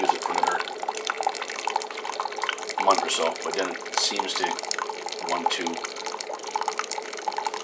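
A Keurig coffee maker pumps vinegar descaling solution through its system, giving a steady trickle and drip of liquid that runs under a person talking throughout.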